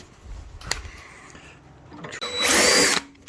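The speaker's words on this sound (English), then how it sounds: "I'll have to drill that one up quick." A power drill whirs briefly, a short burst of high-pitched spinning after some quiet handling noises and a faint click.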